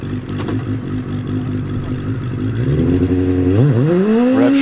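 A Force PC hillclimb car revs on the start line at Loton Park, the engine's harmonic drone rising loudly, then a sharp blip and climbing pitch as it launches away.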